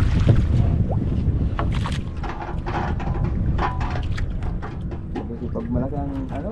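A gasoline boat engine runs steadily and close by, a continuous broadband rumble with people talking over it throughout.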